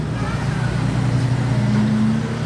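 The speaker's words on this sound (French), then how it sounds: "Et le retour de la McLaren Senna." A McLaren Senna supercar engine out on a street in Monaco, giving a loud, steady, close rumble with a sustained low drone and no breaks across the whole moment.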